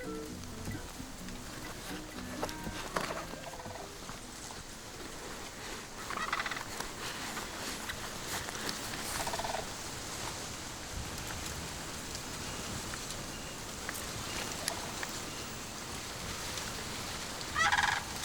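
Birds at a sanctuary in Cuba, heard as gobbling, turkey-like fowl calls scattered over a soft, steady outdoor hiss, faint and distant with no one speaking.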